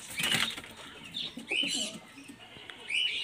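Pigeons in a loft, a paired male and female flyer breed, flutter their wings in brief bursts at close range, alongside faint cooing and chirps, with a gap between the flapping bouts.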